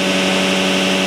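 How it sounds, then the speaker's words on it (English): An alternator-driven electromagnetic pulse motor runs steadily, a dense, loud mechanical whir with a buzzing hum and no change over the short stretch. "running the energy through the electromagnet to drive the pulse motor"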